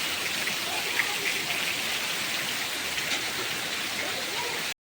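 Heavy rain pours steadily over a farmyard, water running off the eaves and across the courtyard, a dense, even hiss heard close, continuous until it cuts off abruptly near the end.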